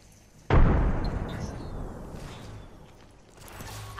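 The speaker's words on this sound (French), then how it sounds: "Grenade frag lancée." A frag grenade detonating in Apex Legends: one sudden loud blast followed by a long rumbling, crackling decay and quieter action noise.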